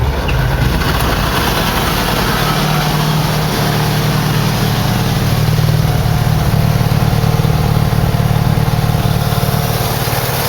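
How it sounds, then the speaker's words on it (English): The engine of a homemade FT-17 Renault replica tank runs continuously and harshly inside, a dense roaring drone with mechanical chain rattling, heard up close for the whole stretch. "I'll crank the engine over so you can get a feeling of how loud this thing is inside"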